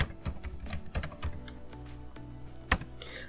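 Rapid, uneven typing on a computer keyboard while naming a new templates folder in a code editor, with close, crisp key clicks in irregular bursts and one sharper keystroke near the end.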